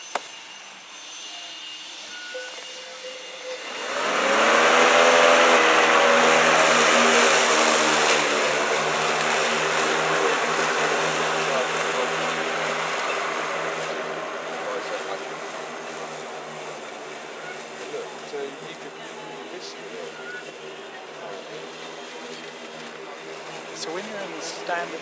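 EGO battery-powered riding mower running with its blade engaged, a steady electric whir and broadband rush that kicks in abruptly after a few quiet seconds, stays loud, then eases slightly and holds.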